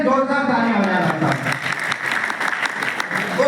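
A crowd at a company awards gathering breaks into sustained applause to honour recipients, while a voice talks over the clapping throughout.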